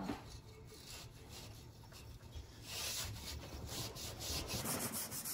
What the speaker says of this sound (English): Or you can take some Scotch-Brite. I have some up here, like that.